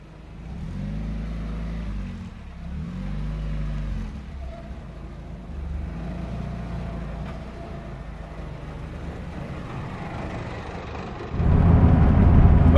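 A Mk1 Volkswagen Golf fitted with ST XA coilovers drives on a test run, its engine rising and falling through a few revs at close range before a louder burst of road and wind rumble near the end.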